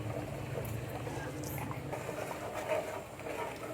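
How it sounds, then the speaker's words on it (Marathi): Kanduri-style chicken gravy with lemon and coriander at a rolling boil in a pot, a steady close bubbling and patter that runs without a break. "बढिया उकळी आलेली आहे बघा"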